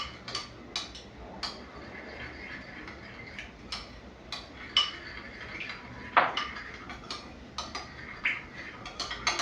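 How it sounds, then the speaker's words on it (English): Salad dressing being mixed in a bowl with a utensil, giving repeated light clinks and taps of metal against the dish in an irregular rhythm, close and fairly quiet, with no talking. "then we are going to mix our dressing"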